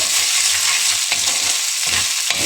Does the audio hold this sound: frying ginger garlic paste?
yes